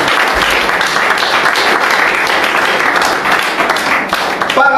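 A church congregation applauds the Lord together, with steady dense clapping that fills the space for several seconds and carries a faint murmur of voices beneath it.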